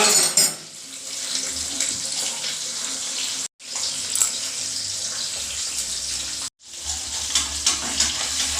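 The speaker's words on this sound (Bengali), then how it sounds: "এক পাশে মাছ ভাজা হয়ে গেছে এবার মাছটা একটু উঠে দিলাম এ পিঠটা হওয়ার জন্য" Rohu fish pieces frying in oil with turmeric after being turned over, a steady bright crackling hiss that runs on continuously, broken by two brief pauses.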